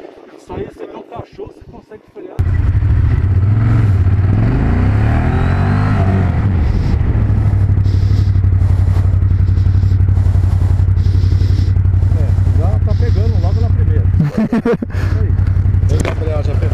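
Ducati motorcycle on a track during a braking drill: after a brief moment of talk, a loud engine drone starts up, holds steady, then dips briefly before resuming.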